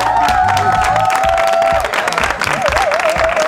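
A TV show studio audience claps and cheers loudly and continuously, with high wavering tones running over the crowd noise.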